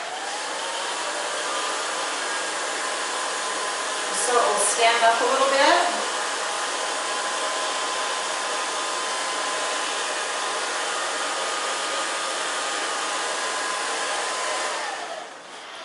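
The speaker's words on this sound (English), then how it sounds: "If you want to, you can take the blow dryer" A handheld blow dryer runs steadily on a boy's short haircut after hairspray, a constant airy whine with a brief wavering surge as it moves, and a voice speaks briefly over it before it cuts off near the end.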